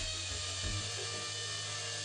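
A compact impact drill with a newly developed hammer mechanism runs at full speed, producing a steady, loud, dense grinding whine that fills the whole stretch without a break.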